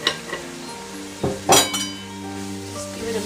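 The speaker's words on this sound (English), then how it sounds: "Just give it a mix." A spoon stirs Kashmiri red chilies into sizzling beef biryani masala in a pot, with a steady frying hiss under a few sharp metallic clinks and scrapes.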